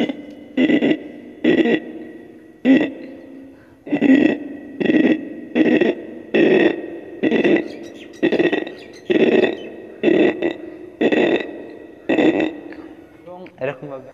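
A man mimics frogs croaking in the evening after rain, producing a steady series of about fifteen quick, guttural croaks in a regular pulse, close and prominent, with no other sounds.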